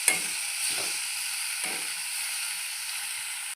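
Cooked pasta stirred in a hot pan, a steady hiss and sizzle with three soft scraping strokes of a spoon early on, then an even sizzle until it stops abruptly.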